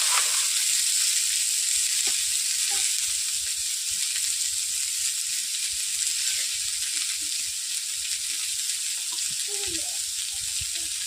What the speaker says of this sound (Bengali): আমি প্রথমে সবজিগুলোকে কড়াইয়ের মধ্যে দিয়ে দিচ্ছি। তেল গরম হয়ে গেছে এদিকে।